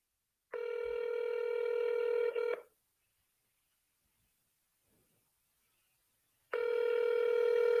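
Phone tones sound during a real estate cold call, a steady, loud electronic tone held for about two seconds, then silence, then the tone resumes. No talk is heard.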